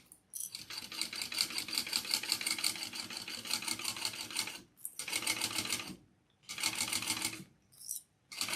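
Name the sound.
sewing machine stitching with bobbin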